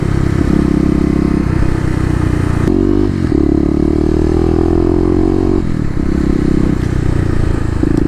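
Kawasaki KLX250 motorcycle fitted with a Mega Bomb exhaust, ridden with a loud, steady engine drone that revs up through gear changes, close and continuous.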